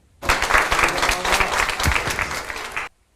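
Applause from a small group breaks out abruptly and holds at a loud, dense, steady level for nearly three seconds before cutting off cleanly, close and with no voices over it.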